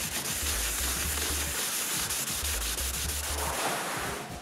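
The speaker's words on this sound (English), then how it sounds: "I clean the glue with mineral spirits" A rag soaked in mineral spirits rubs dried glue off an MDF panel, a close, continuous scrubbing friction noise with rhythmic back-and-forth strokes that fades slightly at the end.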